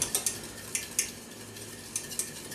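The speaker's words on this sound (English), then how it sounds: "I'm just going to whisk that all together." A whisk taps and scrapes against a pan while crab Newburg sauce is mixed, a quick series of sharp metallic clicks over a soft background hiss, close and fairly quiet.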